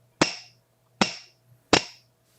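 Steel chasing hammer striking wire on a steel block while flattening earwires, three sharp metallic taps at an even pace, close and crisp with short ringing decay, plus one faint tap between.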